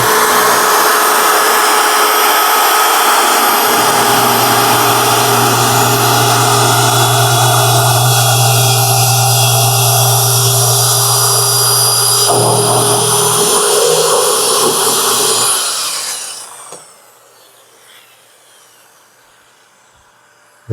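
A power saw cuts through a piece of wood in a tree-to-table build, its loud, steady whine running continuously for about fifteen seconds before cutting off and fading to quiet.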